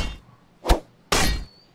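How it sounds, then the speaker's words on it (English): Digging in Medieval Engineers: two hard, broadband impacts, a short thwack followed by a longer scraping crunch, close and loud with no talk. "let's go do a bit more digging"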